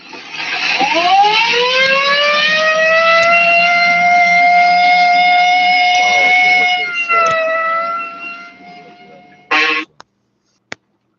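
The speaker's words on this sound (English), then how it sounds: "Well, I better use the light and siren, Frank." A police car siren winds up near and loud into a long sustained wail, then drops and cuts off, followed by a brief burst and a couple of clicks.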